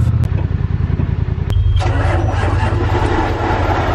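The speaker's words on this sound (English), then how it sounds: "Now that the tractor is warming up" A tractor engine idles as it warms up, loud and close, its steady low throbbing continuous after a couple of sharp clanks near the start.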